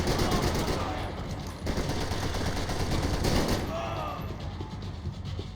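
Assault rifle fire in Max Payne 3, rapid sustained bursts of automatic gunfire rattling loudly and densely across the whole stretch with brief shifts in intensity, game sound effects layered beneath.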